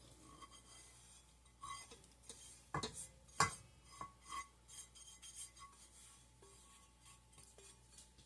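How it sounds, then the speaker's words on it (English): A utensil scrapes and taps in a bowl as almond cookie dough with toasted almond flour is mixed, quiet overall with a few louder clinks near the middle and soft irregular stirring before and after. "Mix it together."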